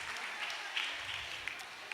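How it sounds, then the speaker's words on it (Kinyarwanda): A crowd of children and adults at a Christmas gathering at Grace of God claps in a dense, fairly faint burst of applause that runs steadily for a couple of seconds. "Umukomere amashyi menshi"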